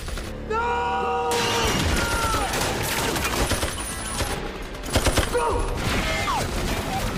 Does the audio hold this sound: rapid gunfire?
yes